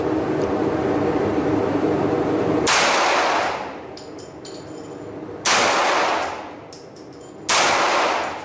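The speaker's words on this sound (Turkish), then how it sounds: "5 tane hızlı atış yapacağım." Rapid pistol shots from a Girsan MC16 Regard or MC39 ring out as three loud, sharp bursts with ringing metallic decays and pauses between them, close and forceful.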